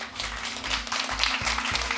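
An audience claps for Matt Slaybaugh at the close of his talk, with dense, steady applause from a crowd.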